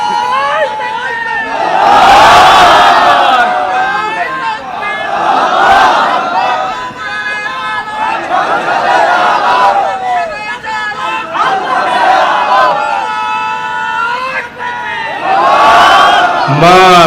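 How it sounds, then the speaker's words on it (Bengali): A large crowd at a Bangladeshi religious gathering (mahfil) shouts takbir in unison, loud and close, in several surging waves of massed voices that swell and fade across the stretch. "একেবারে সাতক্ষীরার মতো তাকবীর হইছে"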